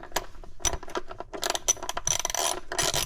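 A quarter-inch drive ratchet with an 8mm socket breaks loose coil pack bolts on a 2.7 Ford Bronco engine, giving close, rapid metallic clicking bursts with short pauses between pulls.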